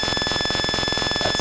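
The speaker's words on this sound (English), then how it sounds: "That's the sound of GSM." A GSM signal from a low-power 2G base station is played as audio through a radio receiver, a harsh buzzing drone pulsing in a rapid, regular stutter with steady whistling tones above, continuous and with no voices.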